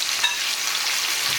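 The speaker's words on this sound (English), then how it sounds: "Look at that sizzle." Lobster and shrimp sizzle in melted butter in a hot pan, a close, steady crackling hiss lasting a moment with no voices.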